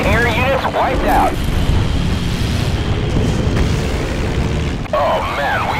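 Enemy aircraft blow up in Battlestations Pacific in a loud, sustained booming roar with rumbling blast noise, while voices speak at the start and end.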